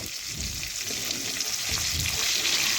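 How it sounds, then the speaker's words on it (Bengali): Katla fish pieces frying in hot oil in a pan, one side browning, a constant close sizzle and bubbling hiss with soft low crackles throughout, no voices. "মাছগুলো আমি প্রথমে দিয়ে দিয়েছি এক পাশ ভালোভাবে ভাজা পর্যন্ত আমি অপেক্ষা করছি"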